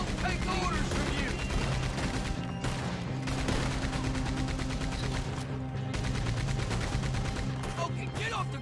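Rapid gunfire bursts and shots ring out in a Red Dead Redemption 2 train robbery scene, dense and loud throughout, layered over a steady game soundtrack, with voices calling out between volleys.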